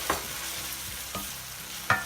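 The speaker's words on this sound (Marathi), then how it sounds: "आपला कांदा चांगला फ्राय झालाय" Onion and tomato sizzle in a pan, with a soft constant frying hiss broken by three sharp spoon scrapes as the mixture is stirred, close and without talk.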